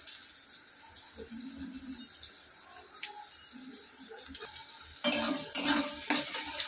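Onion and crushed garlic paste frying in a pan, a soft, faint sizzle with occasional stirring, growing louder and busier with scraping and clatter near the end.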